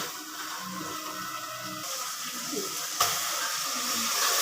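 Onions and tomatoes frying in a pan for chicken biryani give a continuous close hiss and steamy sizzle, with a sharper, louder burst of sizzling partway through; no speech.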